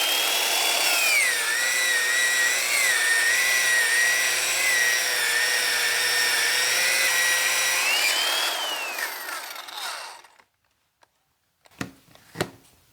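A handheld power tool whines steadily, polishing a part on a 1984 Dodge Ram, its pitch wavering under load for about ten seconds before spinning down, followed by a few sharp clacks.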